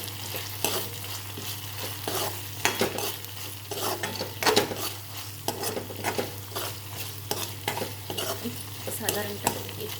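Ginger garlic paste sautés with onions in a pan, a constant sizzle layered with frequent clinking spatula strokes against the metal and a low steady hum beneath.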